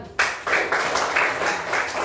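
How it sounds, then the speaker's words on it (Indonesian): Schoolchildren in a classroom clap in a rhythmic patterned beat, several sharp group bursts following one another evenly over two seconds, close and fairly loud. "Bagus sekali anak. Tepuk tangan."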